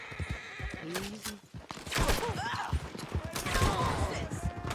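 Several horses whinny loudly amid a busy, noisy scene in the video game Red Dead Redemption 2, with hooves clattering and raised voices underneath.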